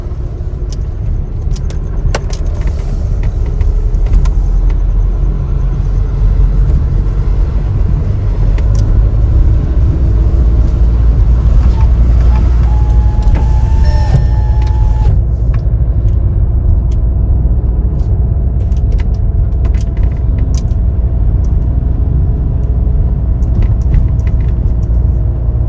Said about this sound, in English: I'm just gonna just driving through the streets.